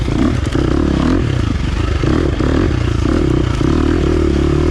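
A 2023 KTM 350 XC-F four-stroke dirt bike rides through turns, its engine droning steadily and loud throughout with gentle rises in pitch, mixed with clattering and scraping chassis noise close to the rider.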